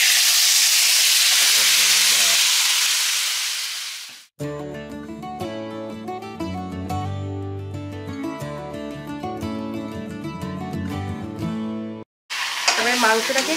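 Chicken meat for biryani is tipped into hot oil in a pan, giving a loud burst of hissing sizzle; music then takes over before the sizzle returns at the end.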